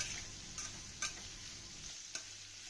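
A potato sabzi sautés in a pan with a faint, continuous sizzle, broken by a few sharp taps and scrapes of a spoon while it is stirred, with no speech.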